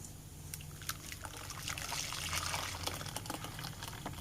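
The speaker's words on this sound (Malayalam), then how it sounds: "ഇനി നമുക്കിതൊരു ബൗളിലേക്ക് ഒഴിച്ച് കൊടുക്കാം" Blended muskmelon juice sweetened with jaggery syrup is poured into a bowl, making a faint, continuous liquid trickle and splash that swells slightly midway, with no talk over it.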